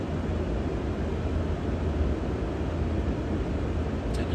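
An aircraft turbine engine starting up, a broad steady roar of rushing air and rumble holding even for a few seconds, loud and close, with no speech over it.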